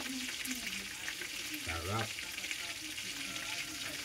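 Food frying in a pan until crisp, a steady broadband sizzle throughout with a brief louder bubbling burst midway, close and continuous.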